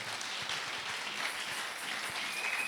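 A church congregation claps during a French-language sermon. The applause is sustained and dense throughout, like a crowd clapping together at moderate volume.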